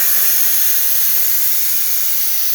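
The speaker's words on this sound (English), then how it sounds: "And let's test the steam." Steady, loud hiss of steam jetting from the steam wand of a Nuova Simonelli espresso machine after a clogged hose was replaced, continuous and strong throughout with no voices.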